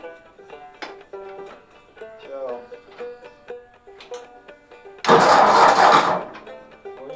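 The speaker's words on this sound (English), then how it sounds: "So I might use this tractor to do that, but I'm pretty sure it's not going to crank." An old tractor engine cranks and turns over in one loud, rough, roughly one-second churning burst that cuts off abruptly, coming after a stretch of someone talking.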